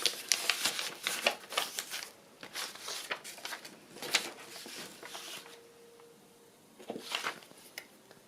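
Paper rustles, crinkles and creases in bursts as pages of a vintage travel journal are folded, loud and close with short pauses between handlings, then a quieter lull before another brief flurry; no speech.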